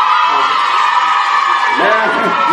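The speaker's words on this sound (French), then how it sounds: "poussez les cris de joie pour votre ami" A class of biology students cheers and shouts with joy for a classmate, a dense crowd roar of whoops and laughter, close and loud throughout, with voices shouting over it.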